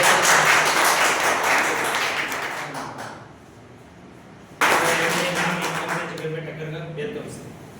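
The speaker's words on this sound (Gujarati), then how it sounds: "જોરદાર તાળી આપી" Loud applause from an audience at a Honics business meeting, a dense burst of clapping that fades out, then resumes abruptly at full strength, with voices faintly beneath.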